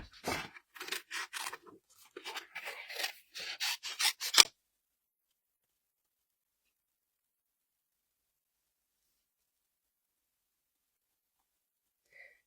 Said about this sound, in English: Just gonna trim him out.